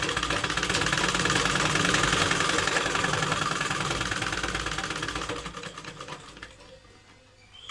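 A sewing machine stitches salwar fabric in a fast, steady mechanical chatter, then slows and fades toward the end as the run finishes. Nobody speaks.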